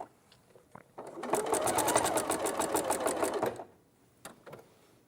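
Sewing machine stitching fabric, running as one continuous rapid whirring burst of about two and a half seconds. Brief handling clicks come before and after it, close up.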